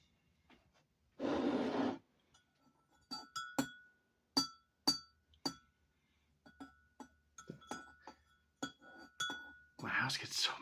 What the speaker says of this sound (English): We're going to stir this coffee some more.